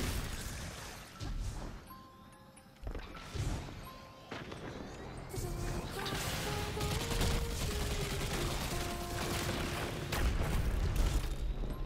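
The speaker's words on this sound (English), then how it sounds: "Gotta back up to see who's firing grenades." Grenade blasts and bursts of gunfire in Destiny 2, heard during a solo Grandmaster Nightfall on Proving Grounds, with a Strand Warlock in the fight; irregular booms and crashes sit under a dense game soundscape.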